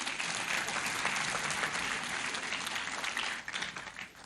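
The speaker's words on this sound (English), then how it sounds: "So clap for the Vice Chancellor now." A graduation audience at TEAU University claps for the Vice Chancellor, a sustained wash of crowd applause that thins out near the end.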